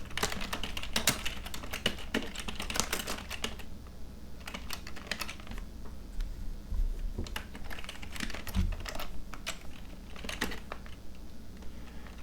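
Python code typed on a computer keyboard, a close, continuous run of quick key clicks with brief pauses and a few heavier presses, with no talking.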